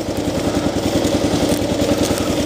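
A Kawasaki KLR motorcycle engine idles close by, a loud, steady, fast thumping putter with even rhythm and no talk over it.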